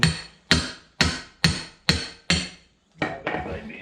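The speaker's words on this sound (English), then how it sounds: "Take your hammer." Six evenly spaced heavy hammer strikes land on a rubbery tire bead while mounting a tire to a rim by hand, close and loud, followed by a couple of quicker, duller knocks.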